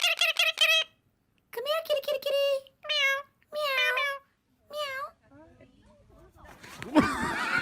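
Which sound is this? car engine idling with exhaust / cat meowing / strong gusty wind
cat meowing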